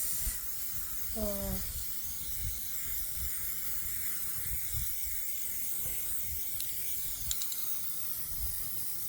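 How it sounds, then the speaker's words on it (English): Steady hissing of an aerosol spray can painting a vase continues throughout at moderate loudness, with a brief squeaky tone and a few soft thumps. "I don't want to spray it on your face"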